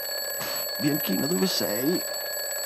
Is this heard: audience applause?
no